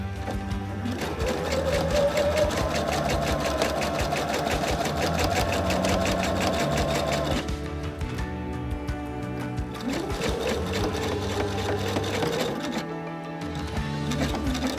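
A sewing machine stitches in fast rhythmic bursts, its needle clatter and motor whir close and clear, with a brief pause near the middle before stitching resumes.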